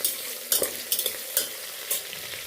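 Onions frying in a pan for chicken biryani, a soft continuous sizzle punctuated by four or five sharp spatula scrapes and taps at irregular intervals, with no speech.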